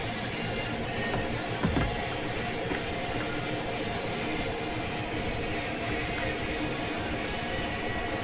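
Fuel drains from the tank of a KTM 500 motorcycle as a steady, continuous liquid pour and gurgle, close and even throughout with a faint clink partway.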